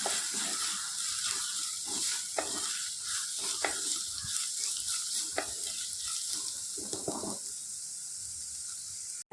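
Onion, crushed ginger and ten garlic cloves sauté in a pan for a lamb liver dish, giving a steady close sizzle and frying hiss with several sharp stirring scrapes spread through.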